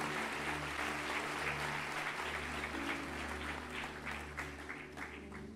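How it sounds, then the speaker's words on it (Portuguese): A church congregation claps loudly and steadily, dense sustained applause filling the room with a low hum or music underneath, tapering slightly toward the end. "Dê um aplauso bem forte ao Senhor."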